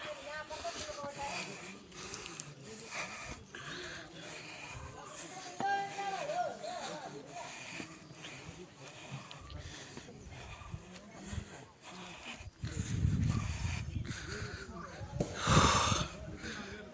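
Heavy, laboured panting from a pilgrim walking the dense forest path of the Sabarimala Periya Padhai trail, the breaths rasping close and steady with louder gasps near the end, mixed with voices and outdoor noise.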